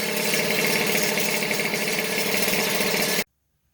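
Two-stroke moped engine running on 100% ethanol, on its stand, runs with a loud, steady buzzing rattle close by, then cuts off abruptly into silence.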